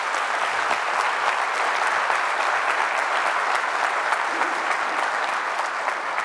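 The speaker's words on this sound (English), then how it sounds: "We'll give them a round of applause." Steady, dense applause from a breakfast event audience honoring veterans, many hands clapping loudly and evenly from start to finish without a break or any voices on top.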